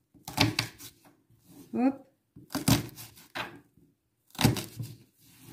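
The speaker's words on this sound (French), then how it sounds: "je coupe en deux un oignon, encore en deux, encore en deux" A knife chops through an onion on a cutting board in a home kitchen, three crisp separate cuts spaced about two seconds apart, close and fairly loud, with brief speech between them.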